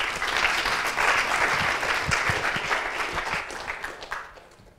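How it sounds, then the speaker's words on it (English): A conference audience claps steadily for several seconds, a dense crowd applause that fades near the end. "So give me a round of applause"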